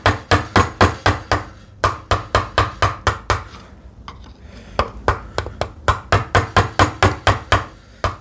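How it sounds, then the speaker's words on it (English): A hand chisel driven into wood with sharp, rapid, evenly spaced strikes in two long runs split by a short pause, loud and close, during hand tool woodworking on a TV unit, with no voices. "I can finish off that part with the chisel"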